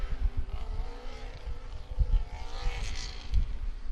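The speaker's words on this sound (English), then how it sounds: "The noisiest car I've ever heard" A Formula Student race car engine roars loud and close during an endurance event, its pitch rising and falling as it passes, with a rough, droning buzz.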